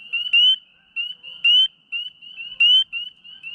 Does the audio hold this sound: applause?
no